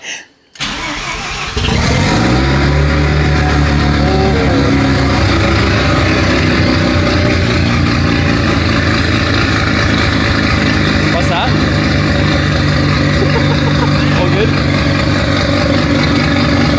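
A Mazda RX7 FD rotary engine fires up after a brief pause and settles into a loud, steady, rumbling idle while warming up, close and continuous throughout with voices audible in the background.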